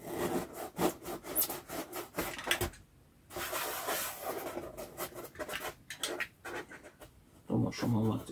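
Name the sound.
scraping wood edges with a cutter blade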